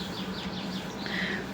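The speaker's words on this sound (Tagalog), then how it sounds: "naririnig niyo na ba yung huni ng ibon?" Birds sing in the early morning on a forested mountain, a run of quick, faint repeated chirps over soft, airy background noise.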